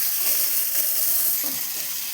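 Chopped tomato and onion sautéing in a pan give off a steady, even hiss of sizzling that holds at the same level throughout, with no voices.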